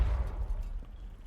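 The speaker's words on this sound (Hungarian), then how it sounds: "Most robbantották be a C5-öt." A C4 explosive charge detonating in a video game: a deep, loud rumbling boom that hits at once and slowly fades, with no voices.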